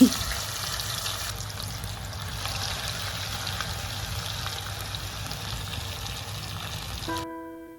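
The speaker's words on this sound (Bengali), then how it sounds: "চলুন এবার মাছগুলো ভেজে নিই" Fish fry in a pan with a steady, moderately quiet sizzling hiss that carries on unbroken for several seconds before cutting off abruptly.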